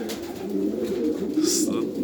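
A racing pigeon coos softly in a low, rolling murmur inside a pigeon loft, with a brief higher rustle or flutter partway through.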